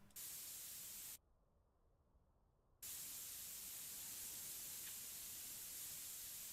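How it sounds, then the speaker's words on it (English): Red leak-detection spray in the video game Car Dealer Simulator hisses in a steady, loud burst, cuts off for a moment, then resumes as a continuous spray. "So this piece, I'm red spraying."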